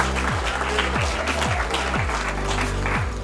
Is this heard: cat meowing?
no